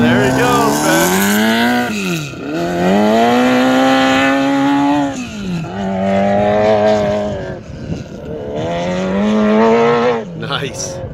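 A Hayabusa-engined sand rail pulls away across the dunes with a loud, close engine that revs in long rising sweeps, dips and climbs again through several gear changes.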